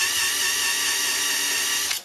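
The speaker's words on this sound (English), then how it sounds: "what I would like to do is just drill a small hole, not all the way through, on the back side" A steady high-pitched whine of a small drill running continuously at close range, boring a shallow hole into the back of a cabinet, cutting off abruptly at the end.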